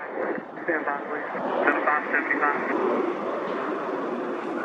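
At a busy airport, a steady broadband roar of aircraft fills the background, consistent with a jet being inspected after a blown tire, while a voice talks over it throughout.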